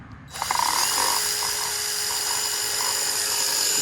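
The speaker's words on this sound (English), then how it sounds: "Put some screws in here. Terminal bank." A power driver whines continuously at close range, steady and high-pitched, while screws are driven into a terminal bank during a DIY MRCOOL unit installation.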